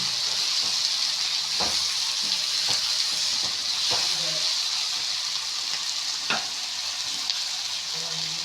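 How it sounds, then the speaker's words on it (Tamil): A cauliflower and egg stir-fry with rock salt sizzles steadily in a pan while a spatula scrapes and taps through it in irregular strokes, close and clear over a constant bright frying hiss. "கிளறி விட்டுக்கோங்க."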